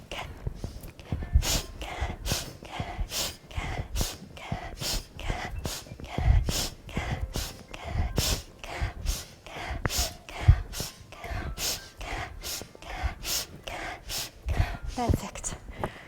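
Sharp, rhythmic inhalations repeat roughly every second or so during an aerobic breathing exercise of toe touches, close and breathy, with some faint vocal sounds between breaths.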